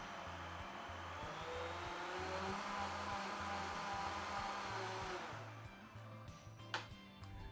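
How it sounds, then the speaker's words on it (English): A Vitamix blender liquidizing mushroom soup, a steady close whirring roar with a low rhythmic pulsing underneath, softening slightly toward the end. "need to really give it a liquidize for about a minute. These Vitamix mixes are so good"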